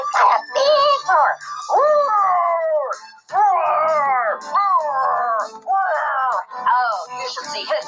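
A dog howls close and loud in long, wavering, mournful calls that rise and fall, one after another with brief breaks between them.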